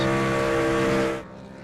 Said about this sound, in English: Gonna burn it down here in front of the crowd at Martinsville Speedway